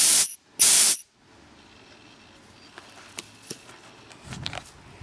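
An old English Electric Co Ltd air compressor lets out two short, loud bursts of hissing air, one right after the other. Near-quiet follows with a few faint clicks and knocks.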